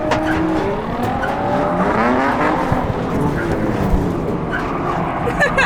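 A car drifts in figures of eight with the handbrake in an enclosed playpen area at a drift event. Tyres squeal and the engine strains continuously while voices talk over it.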